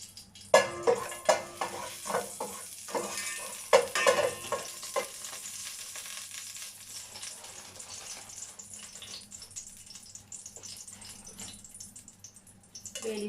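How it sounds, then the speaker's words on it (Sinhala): Star anise and cloves dropped into hot oil for a mutton biryani, crackling and sizzling with sharp stirring clatters early on that settle into a soft, steady fry. "තෙල් එක රත් වෙලා තියෙන ස්ටාර් ඇනිස් එකක්, කරදු මුංගු කරාබ් නැටි 3-4ක් දාගත්තා."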